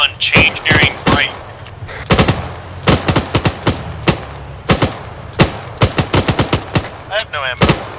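Armored vehicle guns firing in the Arma 3 military simulation, loud close bursts of rapid automatic fire in uneven volleys, with brief radio-style voices between shots.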